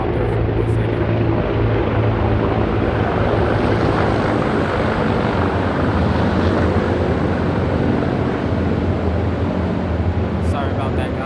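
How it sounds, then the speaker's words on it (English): A loud, continuous roar of a military helicopter passing overhead fills the scene, steady and broadband, with speech faintly mixed beneath. "I lost my train of thought there because of that helicopter"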